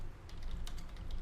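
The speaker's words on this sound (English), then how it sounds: "All we need to do here is we type in any keyword." Keyword typed on a computer keyboard: a quick run of faint, close key clicks over a low background hum.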